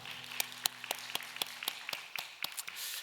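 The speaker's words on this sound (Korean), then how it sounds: "우리 하나님께 영광의 박수 올리겠습니다" Scattered hand claps from a small church congregation at a Korean family worship service, about a dozen distinct sharp claps at an uneven rhythm, faint and fairly close.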